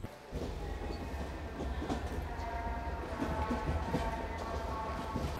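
Steady low rumble of a train running toward London, heard from inside a carriage carrying a bicycle, with faint rhythmic clacks of wheels over track joints.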